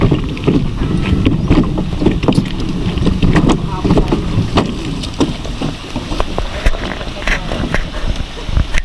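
A bangka boat moves out on the sea in strong waves and current, with a steady rumble of motor and water broken by wind buffeting against the microphone, and voices talk over it throughout.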